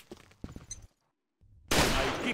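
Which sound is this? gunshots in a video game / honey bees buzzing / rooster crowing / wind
gunshots in a video game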